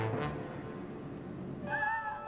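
A cat lets out a drawn-out, wavering meow near the end, heard over a steady dramatic backdrop of low noise and music, with no talking.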